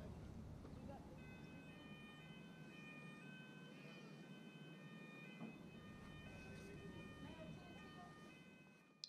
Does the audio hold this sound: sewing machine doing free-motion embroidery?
no